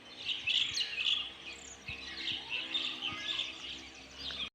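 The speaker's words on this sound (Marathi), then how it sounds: "जास्त करून शालुंक आहेत शालूम किंवा चिमण्या बारक्या बारक्या त्याच आहेत त्यांचाच आवाज जास्त आहे" Mynas and sparrows chirp busily on a quiet village morning in the Konkan countryside, with many overlapping calls forming a steady chorus that swells and dips without pause.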